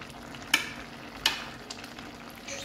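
Vegetables for a vegetable tajine stirred in a pan as they cook: two sharp scraping knocks of the utensil over a soft, continuous sizzle, followed by quieter small clatters.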